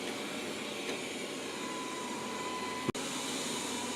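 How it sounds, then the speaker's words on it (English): Steady broadband whirring hum of a Wyze LIDAR robot vacuum motor running continuously, with a brief sharp click near the end. "this is my first LIDAR vacuum cleaner"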